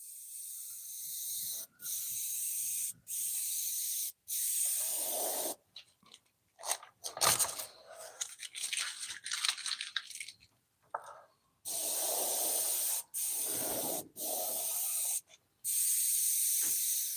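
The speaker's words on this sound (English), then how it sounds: "Still not comfortable with the airbrush in my left hand." An airbrush sprays paint on a black and white painting in repeated loud, steady hissing bursts separated by short pauses, with a stretch of uneven, sputtering spray and light clatter in the middle.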